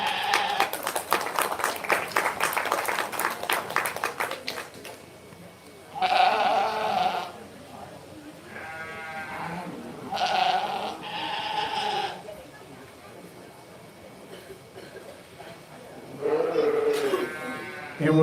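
Purebred Dorset ewes bleat repeatedly in loud, drawn-out calls at a 4-H sheep show, after a stretch of steady rhythmic rustling and clattering from the pen area.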